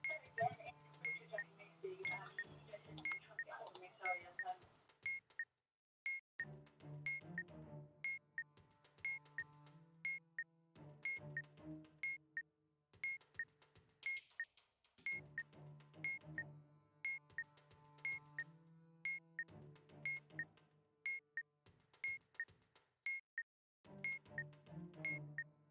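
A phone ringing with an incoming call: a bright, repeating electronic melody with rhythmic pulses and short gaps, playing steadily and fairly clearly with no talking over it.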